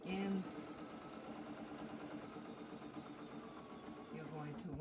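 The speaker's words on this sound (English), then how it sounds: "a back stitch and then stitch back onto the thread saver to finish" A sewing machine stitches a denim and flannel ravioli quilt, running as a steady rapid mechanical whir with short squeaky starts and stops, while someone talks over it.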